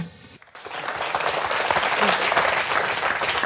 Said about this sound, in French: Mais les gens applaudissent, hein?